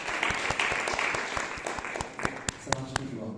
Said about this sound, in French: Normalement, les gens applaudissent quand on dit.